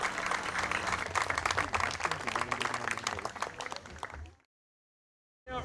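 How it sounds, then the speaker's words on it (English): Crowd applause at a girls' high school soccer senior night, Shaler Area versus Armstrong: dense, steady clapping for about four seconds, then abrupt silence before the cheering cuts back in at the end. "Let's have one more round of applause for all 4 of our amazing Shaler Area senior soccer players and our Armstrong senior soccer players."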